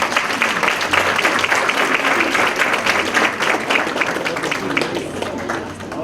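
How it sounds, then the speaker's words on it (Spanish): An audience applauds a professor at a swearing-in ceremony, dense sustained clapping that fades slightly toward the end, with a faint voice underneath. "Por favor, aplausos para el doctor Cruzata."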